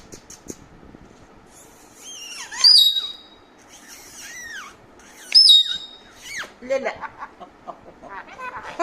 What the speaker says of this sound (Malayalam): കൊത്തുന്ന തത്തമ്മ